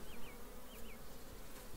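Honeybees buzzing steadily on a hive frame during a cool-weather inspection, a continuous close drone with a few brief higher whines from individual bees passing near.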